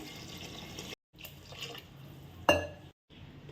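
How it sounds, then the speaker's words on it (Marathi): Water is poured into a pot of vegetable khichdi with vegetables and spices, a soft splashing pour broken by brief gaps and one sharper splash, faint and close. "पाणी टाकून घेते मी"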